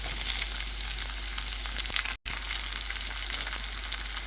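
Carrot, beans, pointed gourd and capsicum fry in a pan, a steady close sizzle with faint stirring clatter and a brief silent dropout midway, no talk.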